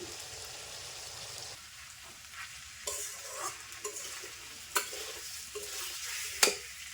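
Potatoes frying in a pan in a village kitchen, a steady broad sizzle running throughout with a few sharp scraping stirs and clinks near the end, no voices.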